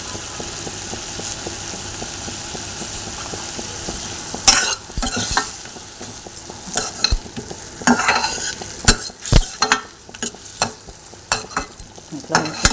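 Fenugreek powder and a pinch of asafoetida sizzle in hot oil, a steady crackle broken by sharp clinks and scrapes of stirring that grow louder and more frequent toward the end.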